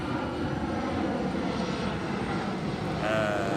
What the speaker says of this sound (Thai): มีเครื่องบินมากวนหน่อยนึง